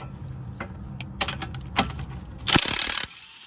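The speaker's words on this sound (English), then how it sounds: "you can put a 19mm wrench here and take off this nut" A ratchet wrench works on bolts of a Hyundai Sonata front strut, giving close, loud clicking bursts of ratcheting, with a sharper, denser run of clicks near the end.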